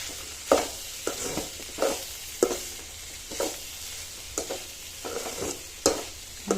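Beans and carrot fry with coriander is stirred in a pan: a spoon scrapes and knocks against the metal roughly once a second, close and clear over a faint frying hiss, with no talking.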